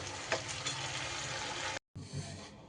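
Spice paste with garlic sizzles and hisses steadily in a pan for a Bengali egg dish, with a few scraping stirs, a brief break, then frying resumes.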